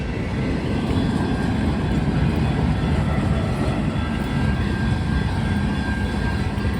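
A train rolls past in a railfanning setting at night, a loud, continuous low rumble and rattle of rail cars that holds steady throughout, with no talk over it.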